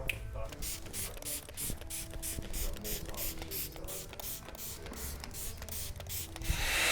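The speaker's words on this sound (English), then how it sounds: "Then I'm going to blow dry this back now with a little bit of salt spray." A salt spray bottle pumps onto hair in a barbershop, a long run of quick, even hissing spritzes, each short and fairly close, over low background hum.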